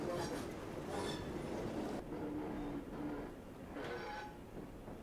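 Class 700 electric multiple unit in a Train Simulator game, a quiet rolling hum with repeated high metallic squeals and hiss rising and fading over a few seconds.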